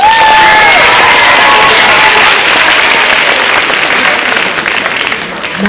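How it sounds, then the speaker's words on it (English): Loud applause and cheering from an audience at a school talent show, applauding the judges, with dense clapping and a few high whoops and shouts that ease slightly toward the end. "can we please have another round of applause for our amazing judges?"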